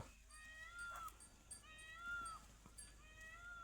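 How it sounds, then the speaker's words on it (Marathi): Faint, distant peacock calls, a few wailing, rising cries repeating over quiet outdoor background noise. "बघा मोरपण ओरडतो इकडं"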